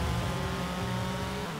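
A 1990 Nissan Pulsar GTI-R launches hard in the Forza Horizon 4 racing game, its engine roaring loud and steady throughout with a possible hint of tire squeal, no talking over it.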